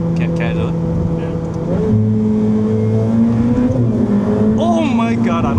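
A Ferrari under full throttle, engine droning loud and close with a steady pitched tone that climbs as it accelerates and wheels spin, while excited voices talk and exclaim over it.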